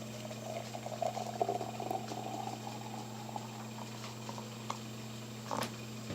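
Water heats toward a boil for a cup of Pero instant beverage, giving a steady electric hum with a soft bubbling rush that swells and fades over several seconds, with no talk.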